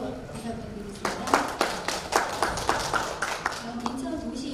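A modest audience at a public hearing on an urban landscape plan claps to greet a panelist, a short burst of steady, fairly close applause that rises and then tapers off, with a voice heard around it.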